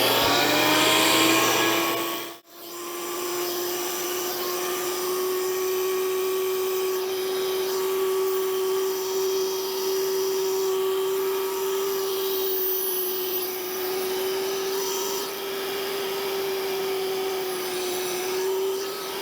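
A Yuasa toolpost grinder runs with a steady, loud whine while its wheel is dressed with a radius dresser. A brief dip early on interrupts the hum, which then holds constant and close throughout, with no talking.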